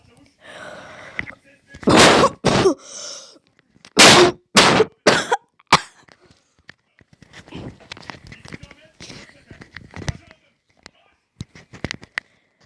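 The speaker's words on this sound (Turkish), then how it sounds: "biraz hasta olduğum için yani biraz öksürüyorum" Several loud, harsh coughs from someone who is ill come close to the mic in two quick bursts, then softer talking follows.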